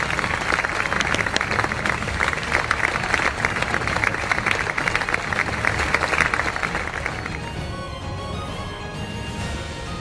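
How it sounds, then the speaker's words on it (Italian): An audience at a Sagido martial arts demonstration bursts into loud, dense clapping that holds for several seconds, then thins and fades out toward the end. "Un applauso, forza!"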